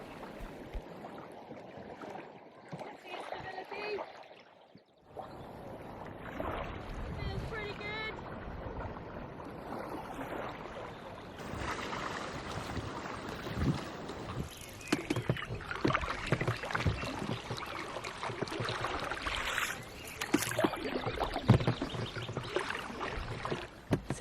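A MyCanoe Duo folding canoe paddled on glassy water, with repeated close splashes and water swishes in uneven strokes and a short pause early on, under steady outdoor background.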